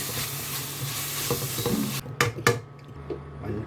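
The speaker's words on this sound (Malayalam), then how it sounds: "മുളക് പൊടിയുടെ പച്ചമണം മാറുന്നവരെ നമ്മളൊന്ന് ഇളക്കും" Chili powder stirred into crab roast frying in a pan: a steady sizzle under close scraping stirring strokes, with a few sharp clinks of spoon against pan toward the end, no voices.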